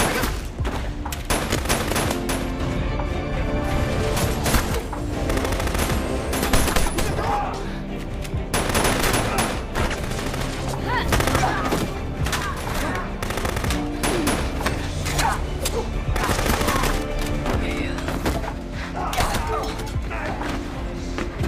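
Dense, sustained automatic gunfire and rapid bursts from mercenaries in an action film shootout, loud and continuous throughout with thuds and impacts layered in, no pause in the barrage.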